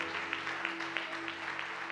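A church congregation applauds during an evening worship service, a steady, quiet wash of clapping with faint rhythmic pulses and a sustained tone held underneath.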